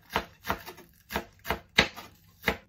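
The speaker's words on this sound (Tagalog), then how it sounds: "Ito po, nahiwa ko na po itong green onion." A knife chops green onion on a board in six evenly spaced, crisp strikes, close and clear, with quiet pauses between them.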